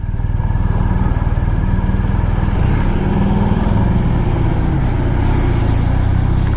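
BMW R1250 RT motorcycle pulling hard through the gears on an open road, a loud, close, steady engine drone with rising pitch and brief shift dips, heard from the rider's seat with wind rush.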